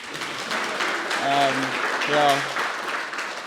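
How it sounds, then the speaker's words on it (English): Clapping from a group at a university oath-taking ceremony continues while a person briefly speaks or calls out over it. "A round of applause for Matthew, please."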